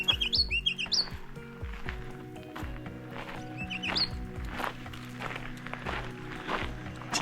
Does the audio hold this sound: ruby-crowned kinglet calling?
yes